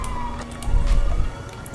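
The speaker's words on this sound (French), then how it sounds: "Les ambulances qui arrivent." Ambulance sirens arrive in the LSPDFR police video game as a steady wailing tone heard through a heavy rumbling engine and road noise, with brief clicks and bursts over it.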